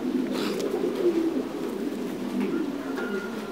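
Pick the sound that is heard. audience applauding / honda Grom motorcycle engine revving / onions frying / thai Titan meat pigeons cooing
thai Titan meat pigeons cooing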